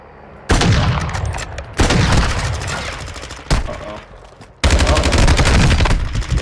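Bursts of automatic gunfire from the Call of Duty Warzone 2.0 video game, four loud sustained volleys in quick succession, each starting abruptly, dense and close, with no talk over them.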